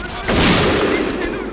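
Gunfire breaks out during a team shootout in a video game: a loud burst of shots starts abruptly and rings on as a dense crackle, close and harsh, with no talk over it.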